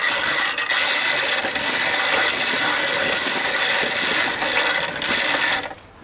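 A hand mill grinding grain into flour, producing a loud, continuous rasping, grinding clatter that runs steadily before tapering off at the very end.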